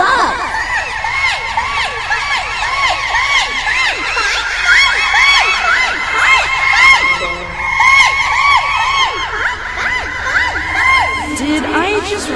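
A crowd of cartoon ponies, all Pinkie Pie, rushes past in an audio drama, a loud jumble of high, squeaky cheering, whooping and shrieking voices that swells and surges throughout.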